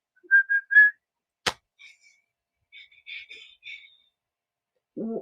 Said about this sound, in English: How do you whistle?